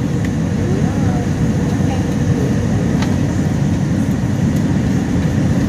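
An American Airlines airliner landing, heard from inside the cabin as a loud, steady, low engine and air roar that holds constant throughout.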